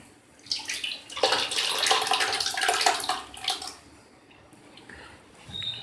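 China grass (agar) pudding mixture poured into a dish, a steady liquid splashing and trickling that builds for a few seconds and then tapers off, heard up close with no talking.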